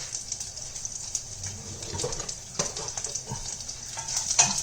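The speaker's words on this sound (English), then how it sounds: "add 2 pods of garlic and some chopped ginger. And we're going to add 2 slit green chilies to it." Garlic pods, chopped ginger and slit green chilies fry and get stirred in a pan for a spiced eggplant dish, giving a steady close sizzle broken by scraping strokes, with faint birdsong in the background.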